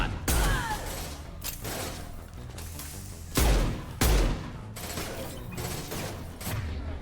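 Repeated heavy gunshots and impact thuds in the Mass Effect 2 video game, several sharp booming blasts spaced irregularly over a continuous din of combat noise, with no speech.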